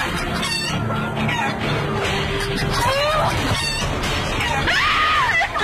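A crowd of hens cluck and squawk loudly and continuously at close range, with rising screechy calls, while a person talks and complains amid the flock.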